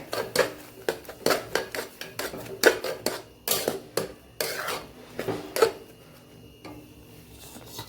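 A spoon stirring milk powder into carrot halwa in a metal pot, a brisk run of sharp scraping clinks repeating roughly every half second, close and clear, slowing toward the end.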